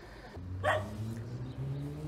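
At a dog shelter in Mijas on Spain's Costa del Sol, a single short dog bark rings out, fairly quiet, against a low background hum.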